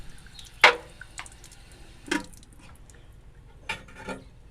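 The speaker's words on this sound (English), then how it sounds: "Pour that in your strainer. I always take a little water in there because these seeds are little." Squash and tomato seeds in water are poured into a strainer, giving a few separate sharp clinks and splashy knocks spaced across a few seconds, close and clear against a quiet background.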